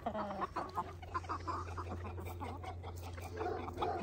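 Chickens in a farm coop cluck and squawk in excited bursts close by on a cold day, over a low steady hum, with no voice heard.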